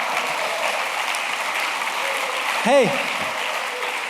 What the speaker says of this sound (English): has any room of people ever applauded a 950 on the SAT?